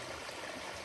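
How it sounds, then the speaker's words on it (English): Rainwater flowing out of a drainage pipe on a flooded property, a steady rushing wash of water close by. "Got a little good flow of water coming out."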